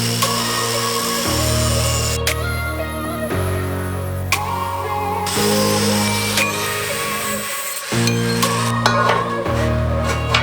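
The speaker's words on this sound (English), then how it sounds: "I'm gonna cut this stock of steel" Steel stock is cut with a power tool in a workshop where a power hammer is being restored, giving loud harsh cutting passes separated by short pauses.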